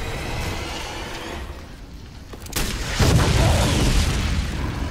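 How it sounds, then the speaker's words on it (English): Rocket blast in a video game: a low background rumble gives way to a sudden loud boom that rolls on in a sustained heavy roar, with no talk over it. "he just caught the rocket with his tentacle and threw it back"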